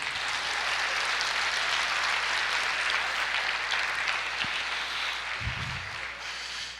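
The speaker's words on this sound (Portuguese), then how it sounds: "Você pode aplaudir o Senhor?" A church congregation claps together in steady, sustained applause that fills the room at moderate loudness, tapering slightly near the end, with a brief low thump partway through.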